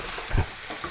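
Chicken curry being stirred in a frying pan, a short scrape with a soft thud partway through over a steady low sizzle.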